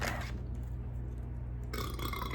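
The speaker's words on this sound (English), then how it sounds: "And burping." A single drawn-out, close burp of about two seconds rumbles loudly during a mukbang meal of quad burgers, with no talking.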